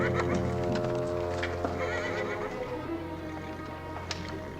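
A horse whinnies clearly close by, a drawn-out neigh over a low steady hum, with faint background movement.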